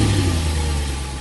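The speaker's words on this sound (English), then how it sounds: "Engines were rumbling" Matatu minibus engines rumble steadily at a busy terminus, a continuous loud low drone with a slight revving edge and no voices over it.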